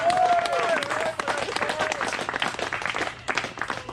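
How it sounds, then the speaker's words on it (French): Guests at a family party clap together in a sustained round of applause, with a voice and a brief whistle rising over the steady clatter. "applaudissez"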